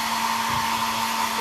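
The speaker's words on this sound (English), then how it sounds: "So I'm gonna dry a little bit. So I'm gonna make a little bit of noise" Hair dryer blowing to dry wet paint on a snowman painting, a loud continuous close whoosh with a steady motor hum, alone without talk.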